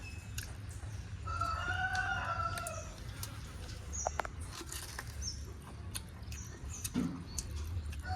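A rooster crows once early on, at moderate distance, followed by scattered clucks and small farmyard noises over a low, steady background hum.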